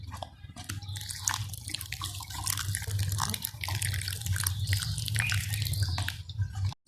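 Plain water poured steadily into pomegranate pulp in a container, a continuous splashing, gurgling stream close up that runs for several seconds and cuts off at the end.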